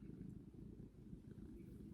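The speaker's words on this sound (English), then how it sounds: "And she's purring. Can you hear her purring?" A domestic cat purrs close by, a faint, steady low rumble that pulses softly and continuously throughout.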